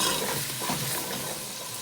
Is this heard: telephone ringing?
no